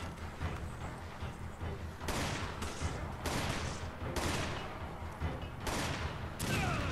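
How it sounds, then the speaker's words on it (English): A Gatling gun fires in Resident Evil 5 as a steady, dense stream of rapid shots. Sharp heavy bursts and booms cut through the gunfire several times, and the whole barrage stays fairly close and sustained. "Gatling gun"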